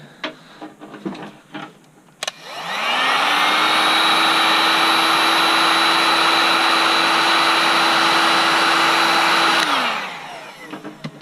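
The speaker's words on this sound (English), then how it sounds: "Use my handy dandy heat gun." A heat gun shrinking heat-shrink tubing for a lightsaber build starts up, blows with a loud, steady whirring hiss for about seven seconds, then winds down, with light handling clicks before and after.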